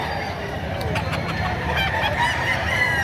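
Chickens and roosters at a Philippine livestock market, with several birds clucking and crowing close by over a steady, busy crowd din throughout.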